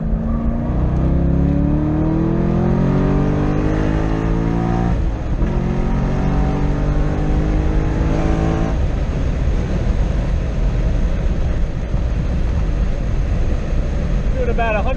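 A Corvette C6 Z06 runs hard on a race track at around 100 mph, its engine roaring loud and steady as it climbs through the revs, drops on a shift, then climbs again, with constant wind and road noise throughout.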